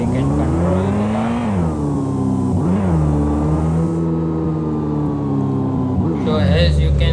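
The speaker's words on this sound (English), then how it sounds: "if you click on play, you can listen the engine of the car" Synthetic car engine from a student-built video game, droning steadily with rising and falling revs and pitch sweeps throughout, loud and continuous with no pauses.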